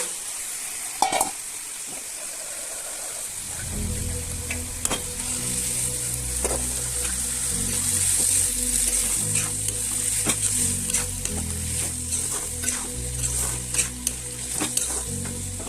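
Raw peas fry and sizzle loudly in a hot pan after a brief quiet start, with a continuous crackling hiss, occasional stirring clinks and scrapes, no voices.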